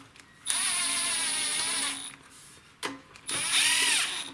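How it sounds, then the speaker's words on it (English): An impact driver snugs the valve cover bolts on a small engine generator in two loud whirring bursts, the second longer than the first, with a brief clack between them. "I'm just going to snug them with my impact"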